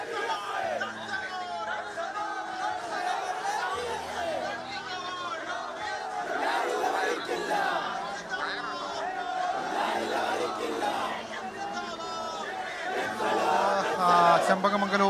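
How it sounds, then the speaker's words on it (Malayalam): A large crowd chants Inquilab slogans in farewell to VS Achuthanandan in Kerala, rhythmic massed voices rising and falling in waves over a continuous street hubbub, with a reporter talking through it. "അത്രയേറെ വൈകാരികമായി ഇൻകുലാബ് മുഴക്കി VSനെ യാത്രയാക്കുന്നുണ്ട്."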